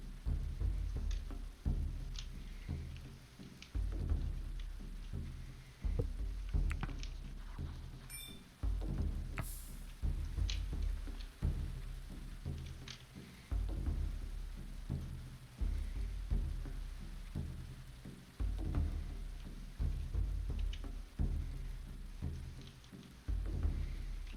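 Steady rain falls in the medieval colony survival game Going Medieval, a continuous patter layered with recurring soft low thumps and scattered sharper taps, holding a fairly even level throughout.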